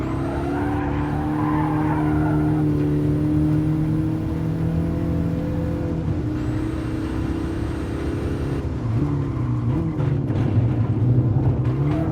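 A Mazda in Gran Turismo Sport laps the Nürburgring with a continuous engine drone and shifting revs, braking hard into corners amid sustained tire squeal and skidding.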